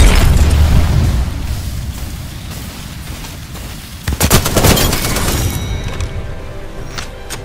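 Frag grenade detonation in the Apex Legends video game, a heavy boom with a rumbling tail around the middle of a dense, roaring stretch of battle noise and gunfire, no speech.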